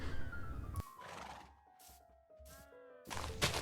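A Minecraft horse neighs in a long, descending whinny, then gives several shorter whinnies broken by brief hissing bursts, close and clear with no talking.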